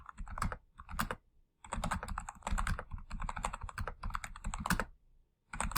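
Rapid keystrokes on a computer keyboard entering text, coming in dense bursts separated by short pauses, close and fairly loud with no talking.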